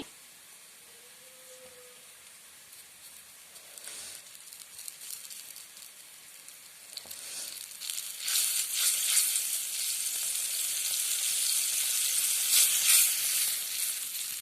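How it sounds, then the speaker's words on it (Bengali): Roughly thirty grams of butter melting in a pan, starting as a quiet faint hiss and building into a loud, steady crackling sizzle that fills the second half. "আমি এখানে প্রায় নিয়ে নিয়েছি তিরিশ গ্রামের মতো বাটার সেটাকে গলিয়ে নিচ্ছি"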